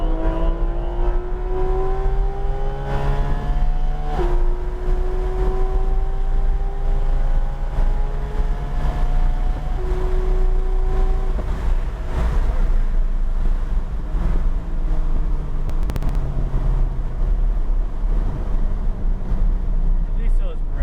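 A Porsche 911 GT3 RS engine on the Palm Beach International Raceway track repeatedly climbs in pitch as it accelerates through the gears, steady and loud under heavy wind rush and an instructor's voice.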